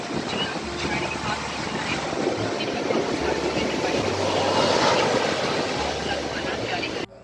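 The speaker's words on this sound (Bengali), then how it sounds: "এই যে সমুদ্রের আওয়াজটা সেটা শোনার জন্য" Steady roar of sea waves washing on the beach at Puri, mixed with wind rumble on the microphone, continuous and fairly loud.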